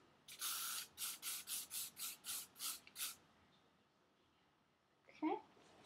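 Hairspray sprayed onto curled ringlets of hair, about nine quick hissing bursts in a steady rhythm, close and loud, then a pause and a brief voice near the end.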